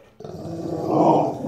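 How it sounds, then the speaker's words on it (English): A dog growls low and steadily, the rumble swelling slightly louder toward the end, close by with no talking. "What are you barking at?"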